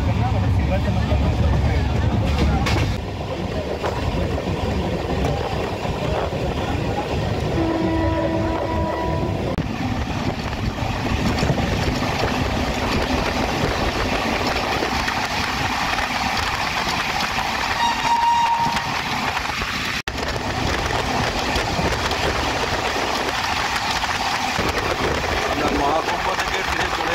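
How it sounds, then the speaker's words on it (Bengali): A passenger train running through the countryside near Bardhaman, with a steady, loud rumble of wheels and carriage noise throughout, a brief tonal horn-like sound partway through, and voices in the background. "আমরা ট্রেন চলে এসেছে প্রায় বর্ধমানের কাছাকাছি।"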